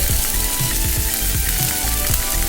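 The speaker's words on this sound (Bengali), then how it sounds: "সেদ্ধ আলু অল্প তেলে করছি" Boiled potatoes frying in a little oil for a sesame and poppy-seed potato dish, a loud steady close sizzle with soft periodic knocks of stirring, without talk.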